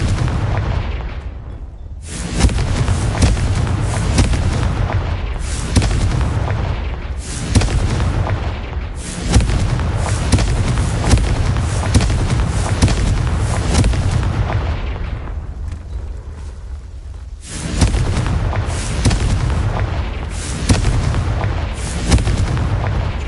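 Confringo spell explosions in Hogwarts Legacy boom loudly, a series of heavy blasts rolling into one another with brief lulls between bursts, dense and close.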